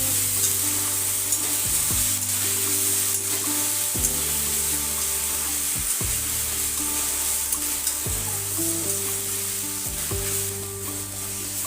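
A paste of onion, ginger, garlic and green chilli fries in oil over bay leaf and dried chilli, a constant loud sizzle broken by slow stirring strokes roughly every two seconds, with no voices.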